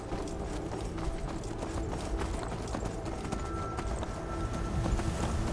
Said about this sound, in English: Get away from my horse.